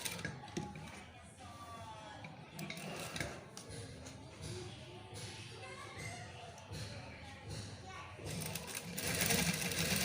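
A sewing machine stitches piping around the back neckline of a garment, with a fast mechanical rattle in short bursts. A person talks over the stitching throughout.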